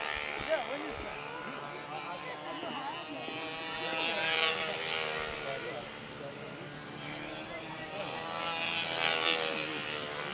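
A red and yellow propeller plane drones overhead with a buzzing engine that swells and fades as it passes, heard outdoors under people chatting nearby.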